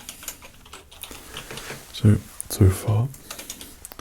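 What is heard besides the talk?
typing on a keyboard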